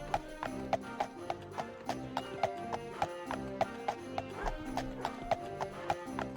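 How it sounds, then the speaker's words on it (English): Horse hooves clip-clop in a steady trotting rhythm through the Daggerfall video game world, loud and close, with an occasional whinny and quiet game sounds underneath. "What are we buying this horse for?"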